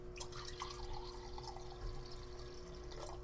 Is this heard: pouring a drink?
yes